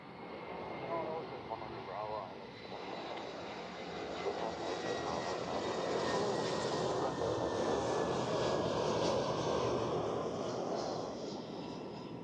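Austrian Airlines airliner moving at Zurich Airport, a steady broad jet-engine roar that swells slightly and holds loud throughout, with a faint voice underneath.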